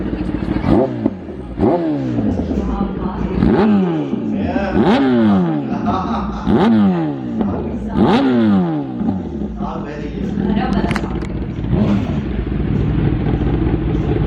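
A 10RR sport motorcycle engine revs hard over and over, each sharp rising roar falling back before the next blip, loud and close.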